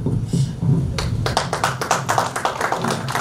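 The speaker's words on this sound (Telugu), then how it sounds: "సగం చప్పట్లు ఇప్పుడు కొట్టండి" An audience at a book launch event in Vijayawada breaks into brief clapping that starts after a quiet moment and continues as scattered, moderately loud claps under a murmur of voices.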